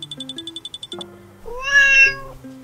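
Cat meowing in a Japanese puppet show, one drawn-out meow in the middle between short musical tones and a quick run of light ticks, close and clear, no talk.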